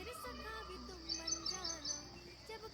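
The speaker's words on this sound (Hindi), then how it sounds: "यहाँ पर चिड़िया की और मोर की बहुत आवाज़ें आ रही है" Birds and peacocks calling outdoors, faint and distant, with a steady stream of chirps and tonal calls that grow busier midway through.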